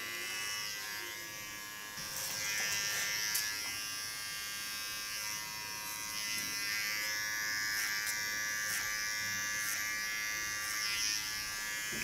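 Electric hair clippers buzz steadily through a haircut, holding a constant high whine. The pitch wavers with sharp catches as the blades bite into the hair, and the sound stays up close with no talking.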